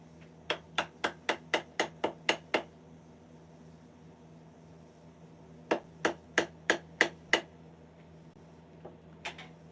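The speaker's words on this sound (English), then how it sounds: "Smacking hammer." A hammer smacks a surface in two quick runs of about eight sharp, evenly spaced blows each, close and crisp against a quiet background, followed by a couple of lighter taps at the end.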